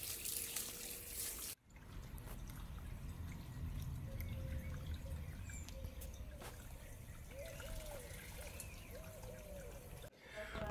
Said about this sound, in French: Donc on n'hésite pas, on arrose.